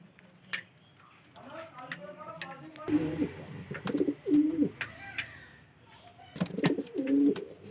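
Pigeons coo in a coop shared with chickens, with repeated close, throaty coos in short bursts and a person talking nearby.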